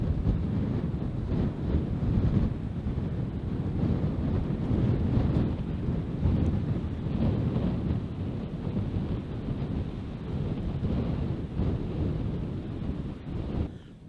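Steady wind buffets a microphone outdoors on the southwest Irish coast near Cork, a continuous low roar with gusty swells and no pauses, loud and close throughout.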